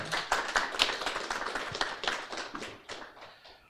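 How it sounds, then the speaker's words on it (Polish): A small theatre-talk audience claps, a steady patter of hands that gradually thins and fades out. "Prosimy o brawa."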